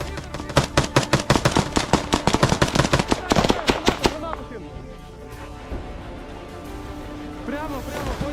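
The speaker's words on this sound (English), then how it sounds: "Flanking and suppressing the final Russian defenders with grenades and fire." Rapid bursts of automatic gunfire crack close by for about four seconds during an assault on Russian defenders, the shots coming in quick uneven strings before giving way to quieter rumble, shouting voices and scattered noise.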